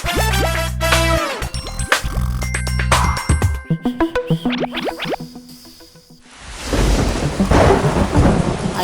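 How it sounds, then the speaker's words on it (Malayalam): A cartoon-style sound effect of rain with thunder: bouncy tonal boings and zips give way to a rumbling crash, then a loud, steady wash of rain hisses through the final seconds. "അയ്യോ അച്ഛാ, മഴ പെയ്യുന്നു"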